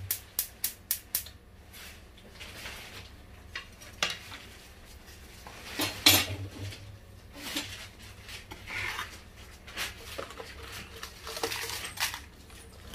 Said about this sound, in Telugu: ఎండుమిరపకాయలు వేయించుకుంటున్నాను